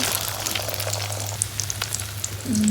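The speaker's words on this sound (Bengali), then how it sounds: "ডিম ভাজি হচ্ছে" An egg frying in a pan gives a loud, close, continuous sizzle with scattered pops and crackles over a low steady hum, with no talk.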